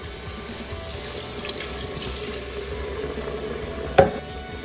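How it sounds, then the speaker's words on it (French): Half a litre of water pours into a pot of okra stew, a steady splashing trickle beneath faint sizzling, ending with a sharp clink near the close. "Après les 5 minutes, on ajoute un demi-litre d'eau."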